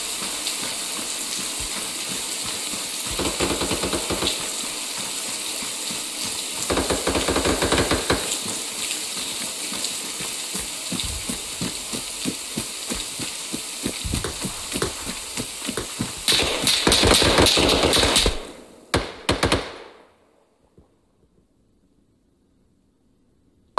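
Sustained bursts of gunfire from an Arma 3 infantry assault on a compound, dense and loud with rapid overlapping shots and crackling, building to a heavy volley before cutting off abruptly into near silence.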